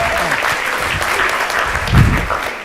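A burst of clapping from a crowd, steady and dense throughout, with a brief low thump near the end.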